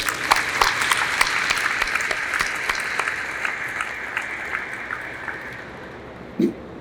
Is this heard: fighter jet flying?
no